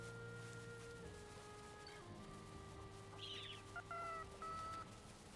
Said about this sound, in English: Oh, I thought that was a chick outside the door.